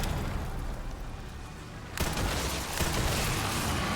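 Rifle gunfire in the video game Resident Evil Requiem, a loud sharp shot cracking in midway followed by a second burst, over a dense, noisy background of game ambience and effects.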